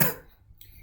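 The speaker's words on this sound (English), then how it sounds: "Pity this person who will cough" One short, sharp cough sounds in a classroom and trails off quickly, followed by near silence.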